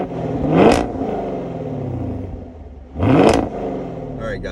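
A 2021 Chevrolet Camaro LT1 V8 fitted with an MPP Performance exhaust revs twice, each a loud, rising blip settling back to a deep, rumbling idle, close by with no talking.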